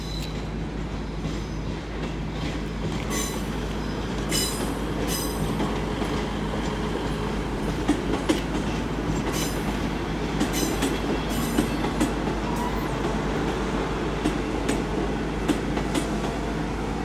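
A passenger train rumbles steadily into Exeter St Davids station, with metallic wheel clatter and brief high squeals from the rails over a constant low drone.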